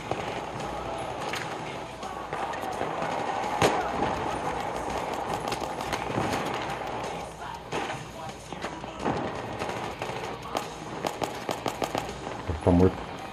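Rapid gunfire from a Battlefield 3 online multiplayer match on a Brazilian server, with the shots glitching, crackles in dense bursts of sharp shots and thumps, with a heavy thud near the end.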